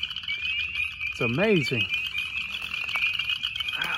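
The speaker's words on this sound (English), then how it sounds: "Them leopard frogs are out, boy." Leopard frogs croak at a winter breeding site full of egg masses, with one near, clear rising-and-falling call standing out over a steady high chorus, while someone speaks briefly.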